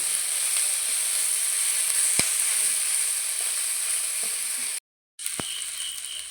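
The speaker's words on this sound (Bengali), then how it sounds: "পেঁয়াজ আর কাঁচা লঙ্কা দিয়ে এবার আমি ভালো করে বেগুনটাকে ভেজে নেব" Eggplant frying with chopped onion and green chili in hot oil, a steady close sizzle throughout, broken by a brief silence and a couple of sharp utensil taps.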